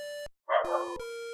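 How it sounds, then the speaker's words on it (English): A corgi named Moxie May lets out a short, rough bark burst in the background, set between steady electronic beeping tones from an old EGA computer game. "if you can hear the barking, that is my dog in the background"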